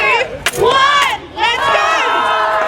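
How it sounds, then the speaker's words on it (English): A crowd at a medieval fayre at Nurragingy Reserve in Blacktown roars a big, loud cheer with shouting voices, swelling twice in quick succession close by. "What I need from you guys is a big cheer and a count in 3, 2, 1."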